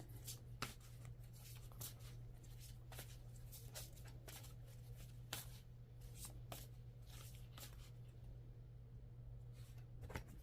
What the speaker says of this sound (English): I will pull out 3 cards for that and 3 Oracle cards at the bottom.